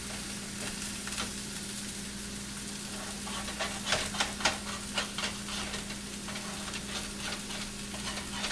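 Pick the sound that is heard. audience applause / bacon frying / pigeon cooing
bacon frying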